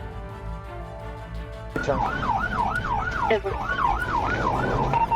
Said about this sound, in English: As the trooper turned sirens on, the driver hit the gas and launched into the dark northbound.